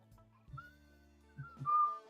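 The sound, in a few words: person whistling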